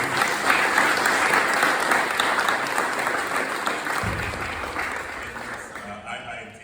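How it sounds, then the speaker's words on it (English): Applause from an outdoor crowd at a habitat conservation ribbon-cutting, dense clapping that slowly thins and fades toward the end, with some low rumble underneath. "So give her another round of applause."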